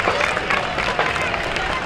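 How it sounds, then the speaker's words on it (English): An outdoor Labor Day parade crowd applauds the local volunteer rescue squad with a dense, continuous wash of clapping and cheering that holds steady and loud throughout. "Once again, a nice round of applause for our South Plainfield Volunteer Rescue Squad."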